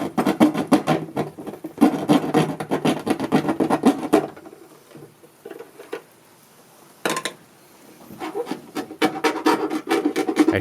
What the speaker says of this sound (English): I shaved off and filed the edges just a little bit so that the fitting would be really snug.